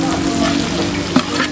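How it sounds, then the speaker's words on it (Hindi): Capsicum, cabbage and peas frying in a hot pan for chicken jalfrezi, a loud steady sizzle with a brief scrape of stirring near the end, no voices. "जो सब्ज़ी हमने काट के रखी थी पहले, शिमला मिर्च, बंद गोभी और मटर, तो अब ये इसमें डालेंगे"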